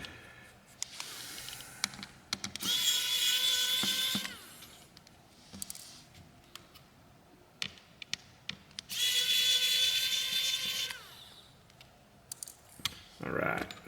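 Small screws are backed out of an HMD Vibe smartphone during a teardown, likely with a powered screwdriver, in two sustained close bursts of whirring separated by quieter handling clicks and taps.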